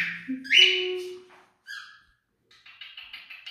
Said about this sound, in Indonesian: bunyi burungnya kenceng banget nih burungku